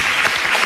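Studio audience applause on an Italian radio show, a dense, steady burst of clapping filling the whole brief moment with no voices over it.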